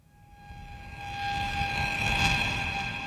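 A train swells in from quiet, its horn-like tones and rumble building to a peak and holding, loud and close, with no voices.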